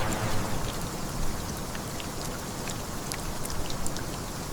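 Steady rain falls on a Sunday, a dense even hiss with scattered crisp drop ticks throughout, close and uninterrupted, with no voices.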